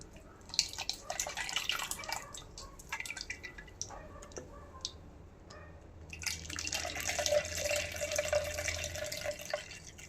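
Liquid from grated coconut pours and drips through a strainer while homemade coconut oil is being made, a close trickling and splashing that comes in bursts and swells into a steadier flow toward the end.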